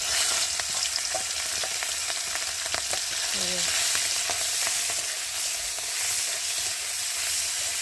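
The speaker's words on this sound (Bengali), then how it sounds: "তার জন্য চিংড়ি মাছটা আগে ভালো করে ভেজে নেব।" Shrimp frying in a hot pan of oil, a continuous loud sizzle with occasional sharper pops and a brief stir, heard close up with no talking.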